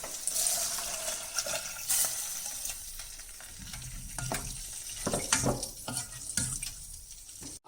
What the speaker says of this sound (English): Now I'm adding the water.